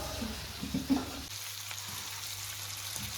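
Fish fries in a pan with a soft, steady sizzle and a few faint stirring scrapes near the start, quiet and continuous.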